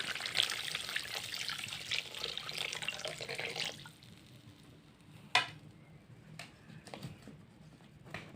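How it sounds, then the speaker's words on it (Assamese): Water poured into a cooking pot of fish curry with manimuni herb, a steady splashing trickle for the first few seconds, then quieter kitchen sounds with a few sharp clinks. "এতিয়া পানী ঢালি দিছোঁ।"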